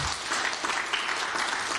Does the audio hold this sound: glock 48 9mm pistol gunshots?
no